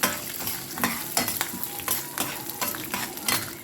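Peanuts, sesame seeds and garlic sauté in a pan for a pirandai chutney, a steady close sizzle broken by repeated scraping stirs and light clinks of a spoon against the metal.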